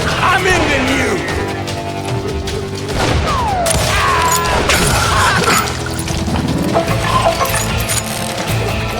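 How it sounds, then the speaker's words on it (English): A street shootout in the western video game Call of Juarez: Gunslinger plays out as loud, dense gunfire. Shots, booms and whining ricochets overlap without a break for the whole stretch. "Shooting in the street!"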